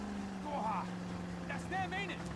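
Motorboat with a 200 cc engine racing along a jungle river: steady engine drone throughout, with people talking over it.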